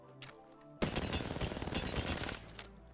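Rapid hipfire gunshots from a weapon in the Apex Legends video game, a loud sustained burst of automatic fire lasting about one and a half seconds, preceded by a couple of faint single shots.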